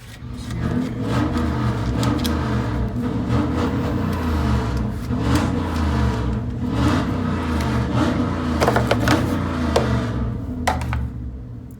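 A Dodge car engine revs repeatedly in a steady, loud, rumbling drone that rises and falls, close by, with no talking.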